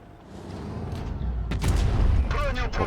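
A heavy booming tank cannon shot from an FV 4005 in a video game bursts out, followed by a rumbling blast and crackling debris, loud and close amid game sounds.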